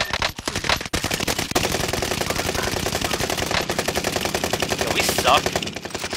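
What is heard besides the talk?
gunfire shooting enemies in a video game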